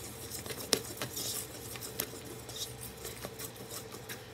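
A spoon or whisk stirs chocolate lava cake batter in a bowl, giving soft wet scraping and light clicking against the sides, with one sharper clink partway through.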